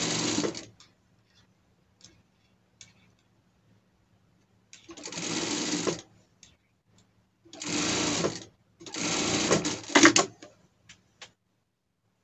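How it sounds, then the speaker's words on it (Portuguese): A sewing machine topstitches a folded-in seam on a costume in three separate bursts of steady, fast motor-driven stitching, with quiet gaps and small handling clicks between runs. "Ó, dobro pra dentro e rebato a costura aqui."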